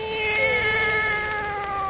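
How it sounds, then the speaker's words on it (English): A cat meows in a long, loud, drawn-out wail, close and alone, produced as a sound effect for a 1934 radio drama. "And now for our visit to old Nancy and her wise black cat."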